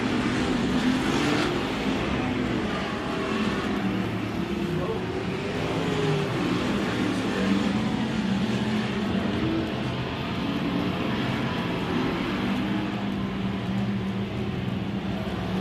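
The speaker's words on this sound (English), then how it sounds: "Flagman Rocky Campbell puts the green flag up in the air for our first session of hot laps" USRA Factory Stock race cars running hot laps at a speedway, a steady engine roar from the track that holds throughout, with a voice talking over it.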